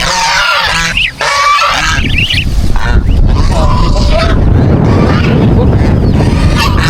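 A flock of geese honking loudly and repeatedly, close by, the calls overlapping in a noisy chorus with some talk mixed in.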